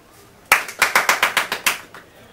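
After a brief quiet moment, roughly ten crisp hand claps ring out in a quick, fairly even rhythm, close and loud, from a small number of people applauding a wrestler.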